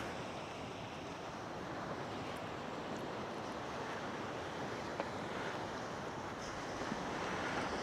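Waves washing onto a beach in the evening, a continuous broad surf roar with wind noise and no clear breaks or voices.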